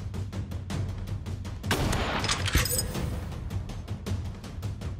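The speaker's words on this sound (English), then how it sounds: "Pump shotgun, shoot!" A pump shotgun fires in the game War Simulator, set among rapid gunfire that rattles in a quick series of loud shots, with one heavier burst of blasts in the middle and no talking.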